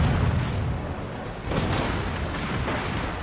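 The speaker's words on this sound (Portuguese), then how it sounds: "Nossa, tô tomando tiro" Naval gunfire strikes a Nicholas-class destroyer in the World of Warships game on the New Dawn map, with heavy booms and thuds rolling over a constant rumbling battle din, with no voices.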